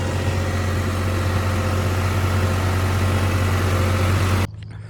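A loud, steady tractor engine, pulling an 8-foot rotavator in a flooded field, drones at low pitch with a constant hum, then cuts out abruptly near the end, leaving quiet background noise.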